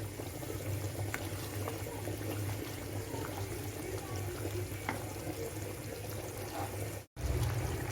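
A pepper pickle mixture with parsley and apple cider vinegar simmers in a pot, a soft steady bubbling with a low hum underneath, briefly cut by a moment of silence near the end.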